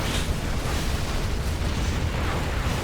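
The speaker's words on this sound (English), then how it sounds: "Rocket pods on the tunnel." Rocket pods pounding a tunnel in a real-time strategy game, USA against GLA, delivered as a steady, dense roar of explosions with no single clear blast, loud and continuous throughout.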